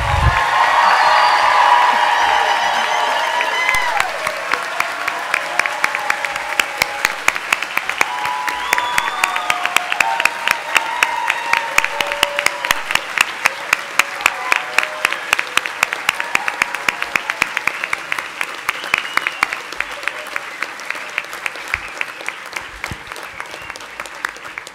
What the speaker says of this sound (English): join me in a round of applause and hoop and holler